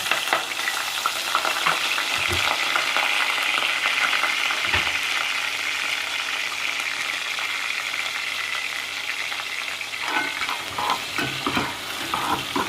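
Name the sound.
onion and ginger frying in hot oil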